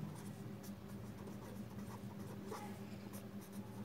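Chalk or marker scratching continuously on a board in a classroom during a Hindi-language mechanics lecture on equilibrium, a steady close rasp with soft patter and no talk over it.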